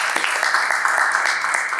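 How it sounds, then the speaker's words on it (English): Brief applause during a club meeting session, a dense, even patter of clapping at moderate loudness lasting under two seconds. "let's all give a big round of applause to that person"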